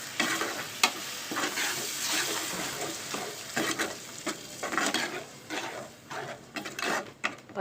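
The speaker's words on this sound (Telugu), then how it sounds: "ఒకసారి అట్లా కలిపేద్దాం బాగా." Tomato gravy frying in a pan for an egg curry, stirred with repeated scrapes and sizzle bursts in an uneven rhythm, close and fairly loud, with no talk.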